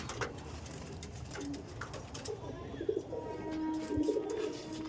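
Domestic Andhra pigeons cooing softly while being handled at a loft, low murmuring coos and rustling close by, with faint background noise and no clear talk.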